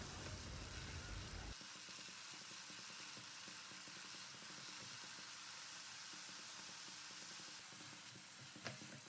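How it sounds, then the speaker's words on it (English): Onions, tomatoes and spices sautéing in oil over a medium flame for a paneer gravy, a steady close sizzle and hiss with soft stirring scrapes throughout, no talking. "now on medium flame we will stir this well until oil starts to separate"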